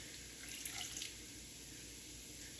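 Three quarters of a cup of water pours into a bowl in a home kitchen, a faint short trickle and splash near the start over quiet background hiss.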